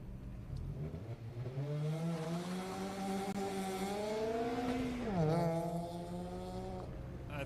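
The 54 Corvette race car pulls away from the start line at a Daytona autocross event, its engine note climbing steadily through the gears, heard at a moderate distance with a brief shift dip.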